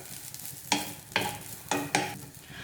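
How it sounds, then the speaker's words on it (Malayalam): Kerala aval vilayichathu, sweet flattened rice with grated coconut, is stirred in a pan: four sharp scraping strokes come at an even pace over a soft, low sizzle, close up and with no voices. "അതുവരെ ഇതുപോലെ ഒന്ന് ഇളക്കി കൊടുക്കുക"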